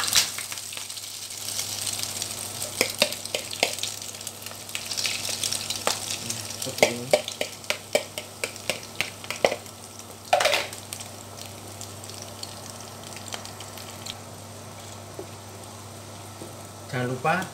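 Bitter melon and egg frying in hot oil, with a steady sizzle, scattered crackles and pops and occasional clattering stirs, close by and moderately loud.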